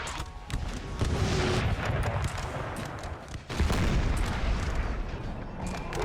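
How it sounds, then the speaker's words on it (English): A Napoleonic battle in the Napoleon Total War game roars with continuous massed gunfire and heavy booming cannon volleys, dense and loud throughout, briefly dipping near the middle before surging again. "it seems like the cannon is aiming for him."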